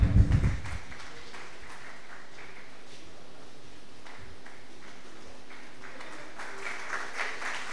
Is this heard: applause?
yes